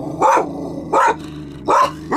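Several dogs bark at people walking past, firing three or four loud, close bursts in an even rhythm with short pauses between them.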